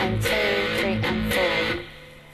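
An electric guitar strums a steady eighth-note rhythm, with unmuted chord hits alternating against muted, choked strokes, then ringing out and fading at the end of the bar.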